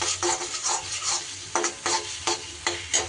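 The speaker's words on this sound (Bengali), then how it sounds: "মিনিট দুয়েক এইভাবে নাড়িয়ে চাড়িয়ে বেশ সুন্দর করে শুকনো শুকনো করে একটু ভাজা ভাজা করে নিতে হবে নারকেল সর্ষেটা" Coconut and mustard paste is stirred in a hot pan with a steady sizzle, the spoon scraping in regular strokes roughly every half second, close and clear with no talk.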